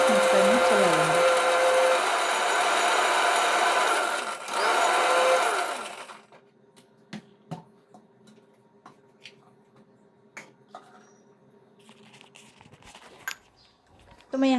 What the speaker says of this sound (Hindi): उसके बाद मैं यहाँ पर मिक्सर में चला लूँगी।